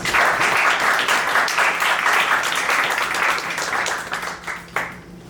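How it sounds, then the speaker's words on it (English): A demo day audience at a startup accelerator claps in a brief, fairly loud round of applause that thins out and fades toward the end, with a few sharp individual claps near the close. "Let's give a quick round of applause for everyone."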